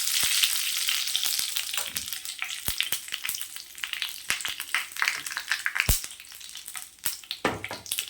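Mustard seeds, urad dal and curry leaves crackle and sizzle in hot oil for paruppu thuvayal. The sizzle is loud and close, with sharp pops and spatters scattered throughout.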